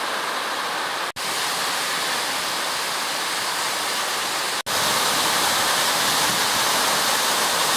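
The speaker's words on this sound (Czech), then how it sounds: "Je to jeden z úžasných vodopádů Madeiry." Waterfall on a levada trail on Madeira, a steady broadband roar of falling water that fills the whole clip, loud and close, with no voices.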